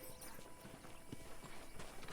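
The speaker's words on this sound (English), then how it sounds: "Okay, let's see if you can still ride a horse." Horse hooves clip-clopping at a steady gallop in the western game Red Dead Redemption, a continuous near rhythmic pounding under ambient game sound, with no talk.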